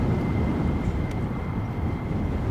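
Atlas Air jumbo jet passing overhead, a loud, continuous low roar and rumble of engines filling the whole stretch without letup.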